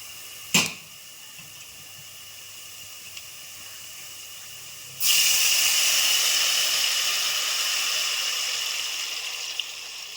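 Liquid poured into a hot pan on the stove while cooking pappu charu, a sharp click followed later by a sudden loud steady hissing sizzle that slowly fades.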